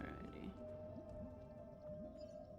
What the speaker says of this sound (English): You hear the whale song?